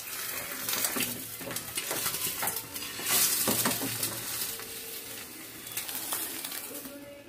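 Eggs frying in a pan as a poached-style egg cooks, with a steady soft sizzle, scraping and clinks of a utensil against the pan, close by, with a voice speaking briefly.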